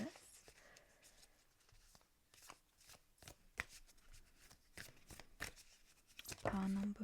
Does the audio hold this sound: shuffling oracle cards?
yes